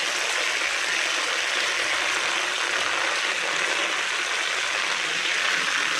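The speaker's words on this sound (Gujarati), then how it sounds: "આમ જો આ કેટલું પાણી આવે." Rainwater running and splashing at night during a downpour, a steady broadband rush close by for six seconds with no pauses and no voices.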